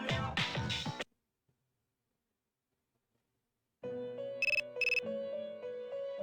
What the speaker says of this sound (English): Your cell phone is ringing.